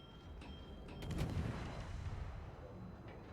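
Ship guns firing in a naval video game replay, a faint, muffled booming salvo that swells and rumbles before fading into low background noise.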